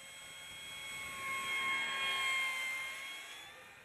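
A Dynam Cessna 188 model plane flies overhead outdoors, its thin electric motor whine rising as it passes closer and fading again, faint and distant throughout.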